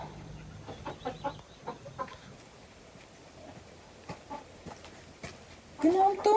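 Hens clucking in a small backyard coop, with several short clucks scattered through the clip and a louder squawk near the end, all heard close by over faint outdoor background.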